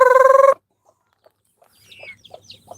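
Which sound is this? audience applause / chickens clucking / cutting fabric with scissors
chickens clucking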